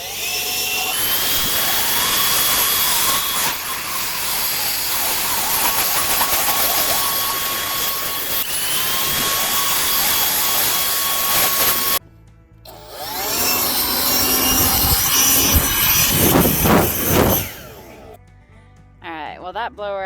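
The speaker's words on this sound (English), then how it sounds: "that blower actually has a lot of power, and of course, I mean, it'll be good for gathering leaves in the fall" A DeWalt leaf blower runs loud and steady with a high whining roar, briefly cutting out and restarting partway through, then dropping away near the end; people talk over it.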